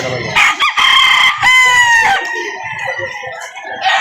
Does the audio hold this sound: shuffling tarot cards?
no